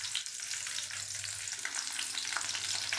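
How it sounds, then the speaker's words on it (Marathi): Chopped garlic and green chillies fry in hot oil with a dense, steady close sizzle and a few faint stirring scrapes, no voices. "बारीक चिरलेला लसूण टाकते."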